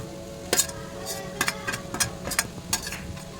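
Potatoes and dried prawns (sukhi karandi) stirred in oil in a pan, with a soft sizzle under irregular scraping and spatula clinks against the metal, about eight sharp taps in a loose rhythm.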